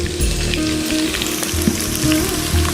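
Chopped shallots with green and red chilies fry in a pan for a Kerala Onam stir-fry, giving a steady, close sizzle and crackle that runs the whole time with no voices.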